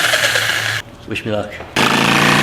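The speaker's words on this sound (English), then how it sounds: "now I'm able to run the jigsaw along my cut line" A jigsaw fitted with a plexiglass-cutting blade slices a plexiglass sheet laid over wood for a bi-fold door in a school bus conversion: a loud, steady buzzing whine, briefly stopping while a voice says a short phrase, then roaring back.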